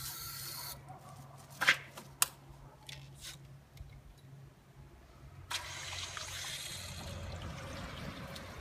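Municipal tap water drawn off as a sample ahead of a HiFlo RO30C demineralizer, heard as a few sharp clicks and handling sounds followed by a steady rushing flow that starts partway through and continues to the end.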